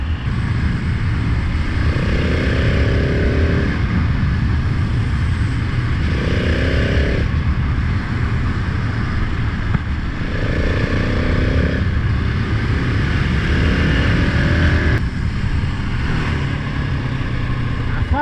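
A 2020 KTM 690 SMC R motorcycle pulls through a series of short rising revs, each climbing in pitch before a shift, over a constant close engine drone and heavy wind rush, with no talking.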